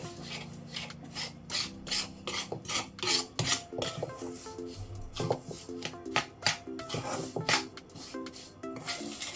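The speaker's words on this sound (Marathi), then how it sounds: "आता हे मिश्रण ह्याच्यातच चांगलं एकजीव करून घेऊया" Green mung ladoo mixture being mixed in a pan, with steady rhythmic scraping and rubbing strokes of a spoon against the pan, close and fairly loud, with no talking.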